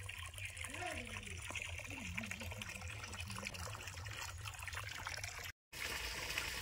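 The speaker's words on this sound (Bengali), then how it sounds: "ডিপে জলের সঙ্গে কিছু পুকুরে জল পাইল করে দিচ্ছি ছোট্ট মোটরের সাহায্যে" Water from a small motor-driven pump pours steadily into a village pond, a continuous splashing trickle throughout, with a voice speaking over it.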